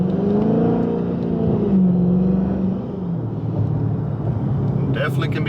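Dodge Charger RT Scat Pack muscle car engine given a little gas, a steady loud rumble that rises briefly then settles into a low drone, heard from inside the car.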